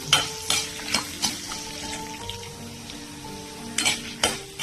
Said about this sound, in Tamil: பூண்டோட இஞ்சியும் நம்ம அதோட சேர்த்து வதக்கி விட்டுக்கலாம்.